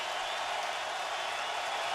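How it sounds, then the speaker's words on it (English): Stadium crowd at a 2010 Cleveland Browns at Tampa Bay Buccaneers NFL game: a dense, unbroken roar of cheering fans, loud and steady from start to finish, with no distinct voices standing out. "And the crowd noise becoming a factor."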